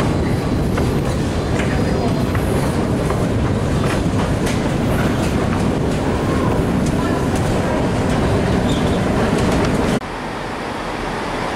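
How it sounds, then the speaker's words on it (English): A TransPennine Express train terminating from Scarborough pulls into a station platform, a loud, continuous rumble with rhythmic wheel clatter that holds steady, then drops sharply in level near the end. "Here comes our train, just terminated in from Scarborough."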